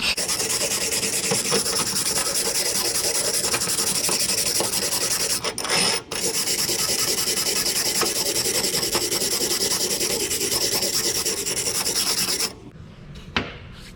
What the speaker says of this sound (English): Once you've got it chipped, you'll take your wire brush and you can then brush it.